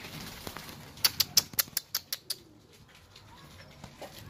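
A rapid series of about eight sharp bird notes or wing flaps, evenly spaced, over a quiet outdoor background with faint rustling.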